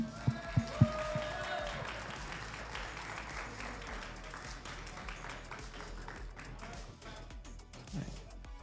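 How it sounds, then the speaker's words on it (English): Audience applause at a school esports championship, a few sharp claps and then a fairly quiet, distant spread of clapping from the crowd with faint voices underneath. "Give him one more round of applause."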